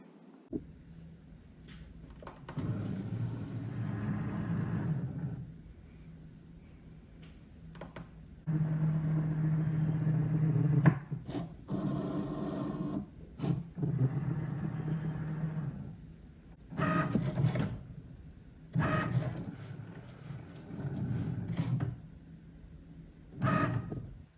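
A Cricut machine cuts iron-on vinyl with a fine point blade, giving bursts of mechanical whirring and humming that start and stop repeatedly, separated by quieter pauses.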